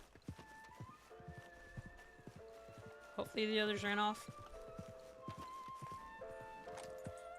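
Horse in the Red Dead Online video game, whinnying loudly midway with clip-clop hooves and a game soundtrack around it, while someone talks over it.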